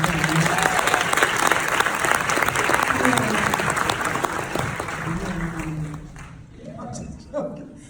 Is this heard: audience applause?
yes